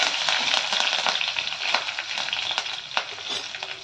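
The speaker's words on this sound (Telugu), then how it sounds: "ఈ పోపు గింజలు వేగాక" Mustard and other tempering seeds, with dried red chillies, green chillies and curry leaves, frying in hot oil for a fenugreek-leaf curry; a close, steady crackling sizzle with small pops runs throughout, no voices.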